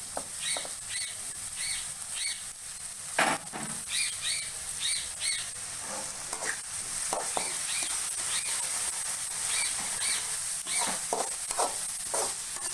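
Carrot and curry leaves frying in a pan for egg noodles, a steady close sizzle with periodic chirping spatter bursts and occasional stirring knocks, no talk.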